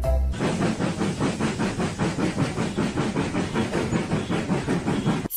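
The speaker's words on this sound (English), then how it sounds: "Steam train." A steam train chuffs and hisses at close range, with rhythmic bursts of steam repeating in a brisk steady beat over a continuous rolling hiss, loud throughout.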